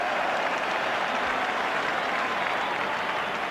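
Football crowd at a 1987 Ireland versus Brazil friendly roaring and applauding steadily as an Irish player wins a corner, a dense, continuous wash of cheering with no break.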